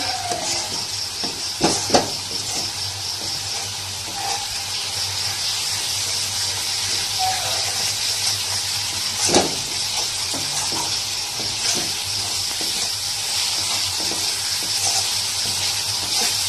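Spice masala fries in oil for a fish curry with eggplant and potato, giving a steady close sizzle and hiss with a few sharp stirring clinks and scrapes.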